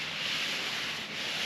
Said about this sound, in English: wipe off any dust residue with your good old shop towels